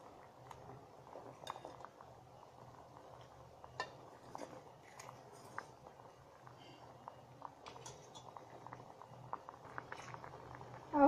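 Jamun juice for sharbat bubbles in a pot on a gas stove, a faint, soft simmering patter with occasional small clinks and taps from the kitchen.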